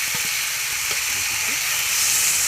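Small fish going into hot oil in a wok, a loud broad hiss and sizzle that runs steadily throughout, with a few faint clinks underneath.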